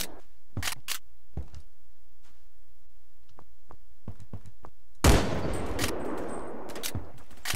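Gunfire in Phantom Forces, aimed at a target behind a wall: sharp single shots spaced through several seconds, then a louder, denser burst that runs on to the end, with no talk.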